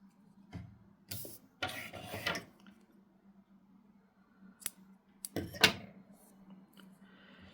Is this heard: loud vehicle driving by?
no